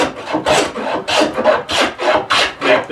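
A freshly sharpened smoothing plane, held skewed for a slicing cut, shears across a wooden seat in about seven rhythmic close strokes, each a loud airy hiss with brief pauses between.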